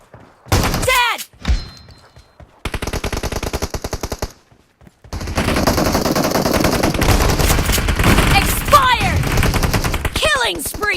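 Shotgun blasts and bursts of gunfire from a PUBG/BGMI battle, loud and close, arriving in dense volleys with brief gaps, mixed with game announcer-style voice lines and other in-game effects.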